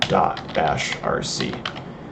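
Typing on a computer keyboard while entering a terminal command, a steady run of close, crisp key clicks with brief pauses, heard alone.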